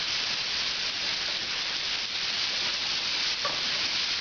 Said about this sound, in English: Now that the pork is good, we're going to add some onions to the pan. Deglaze it a little bit.